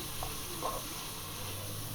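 Red onions frying in a pan with garlic for a Peruvian sopa a la minuta, a faint, steady hiss of sizzling oil throughout with a couple of soft stirring clicks.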